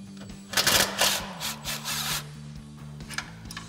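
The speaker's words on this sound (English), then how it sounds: "we're gonna grab our 10 mil on our impact and go ahead and pop that off real quick" Impact wrench zipping a 10 mm brake line bracket bolt off a Jeep Wrangler JK during a suspension lift install, a few short buzzing bursts close by over a steady low hum.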